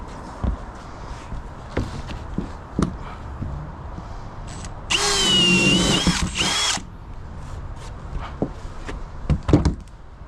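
A power drill whirs in one sustained burst of about two seconds during a house remodel, standing out clearly amid scattered knocks, footsteps and light handling noise from the work site.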